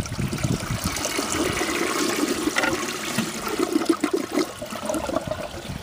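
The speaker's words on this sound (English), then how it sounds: "That was a very good flush." A 1926 Standard Devoro low tank toilet flushes, with a steady, loud rush of water that swirls and gurgles for several seconds and has no voices over it.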